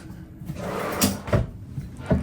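A kitchen drawer in a Bay Lake Tower studio hotel room slides and thumps as it opens and closes, three distinct close knocks spaced about a second apart.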